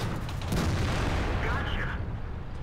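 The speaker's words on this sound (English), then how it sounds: "I just fired as soon as the gun hit his level" An FV207 tank's cannon fires in World of Tanks with a deep, booming blast that rumbles briefly and trails off into a low roar, with a voice talking over it.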